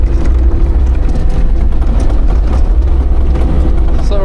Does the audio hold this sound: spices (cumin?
no